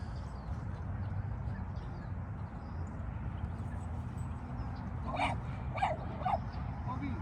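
A few small dog barks, yappy and moderately close, cut through steady outdoor rumble and some talking in the background, on ice-cold grass.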